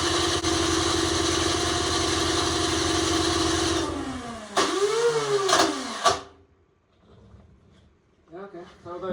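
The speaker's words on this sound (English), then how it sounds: "the starter sounds like it's not catching all the time" Electric starter on a salvaged snow blower cranking hard with a loud steady mechanical whir for several seconds, then sputtering and winding down to near silence before a voice speaks briefly.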